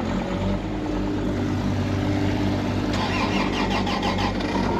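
A diesel excavator engine cranks and catches, settling into a loud, rough rumbling idle with a rhythmic knocking that rises partway through.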